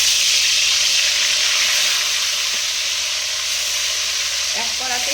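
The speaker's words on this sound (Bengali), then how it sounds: "এবার কিন্তু আমি তেলের মধ্যে মাছগুলোকে সব ছেড়ে দেবো একটা একটা করে" Rohu fish pieces rubbed with salt and turmeric fry in hot oil in a single wok, a loud, dense, continuous sizzle and hiss close up, with no talking.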